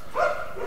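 A dog gives one short, tonal bark or yip from a little distance, with quiet background before and after.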